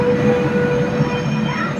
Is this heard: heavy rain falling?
no